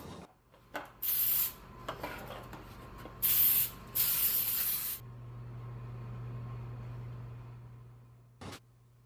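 Baker's Joy baking spray is sprayed into loaf pans for an apple cake in several short, loud hissing bursts, followed by a steady low hum and one last brief spritz.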